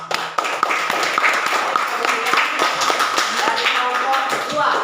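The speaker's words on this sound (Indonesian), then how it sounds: "Mari kita beri aplaus." Classroom of students clapping together in applause, a dense burst of many hands close by, with voices talking over it.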